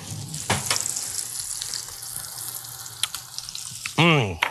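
A kitchen tap runs steadily into a sink as hands are washed between cooking steps for chicken patty burgers, with scattered clinks and splashes over the flow, and a brief vocal sound near the end.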